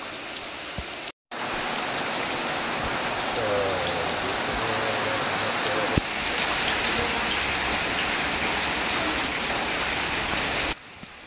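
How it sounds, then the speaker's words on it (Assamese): Steady rain falls and patters on a surface, a continuous close hiss with brief dropouts near the start and end. "বৰষুণৰ কাৰণে"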